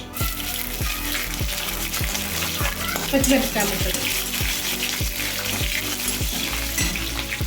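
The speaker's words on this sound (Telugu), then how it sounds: "కట్ చేసుకున్న ఆనియన్, ఆనియన్ బాగా వేగాలండి" Chopped onions and green chillies fry in a pan with a loud, steady sizzle, while a utensil scrapes and taps the pan in a regular stirring rhythm close by.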